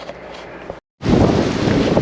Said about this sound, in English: It's beautiful, but it's very windy.